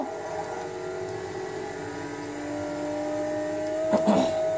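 A Porsche engine held at full throttle in the Forza racing game on the Nürburgring gives a sustained, slowly rising drone, with a short burst of added noise near the end.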